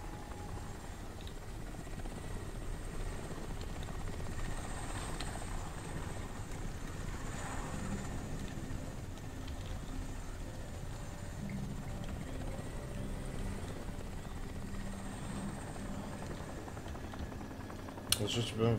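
A helicopter in the video game Crysis drones steadily throughout, a continuous whirring rotor hum with wind-like noise, while a voice talks over it.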